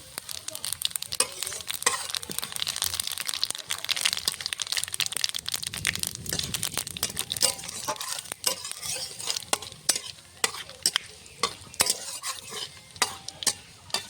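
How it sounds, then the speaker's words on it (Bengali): Dry red chillies, bay leaves and cumin seeds sizzle in hot oil in a pan for a taro dal. A steady close crackling hiss runs throughout, broken by frequent sharp stirring scrapes and clicks. "এই তেলে শুকনো লঙ্কা তেজপাতা দিয়ে দেবো, আর একটু তেল দিয়ে দেবো।"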